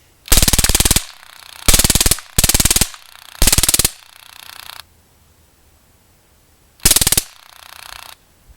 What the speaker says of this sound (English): I ran out of BBs during the shooting of full auto